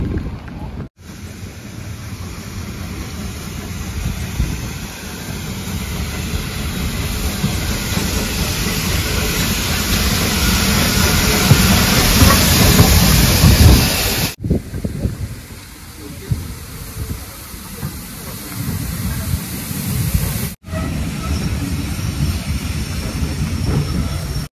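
Steam train on the Haworth heritage railway, with a loud rushing hiss and rumble that builds steadily before cutting off and returning more quietly in bursts.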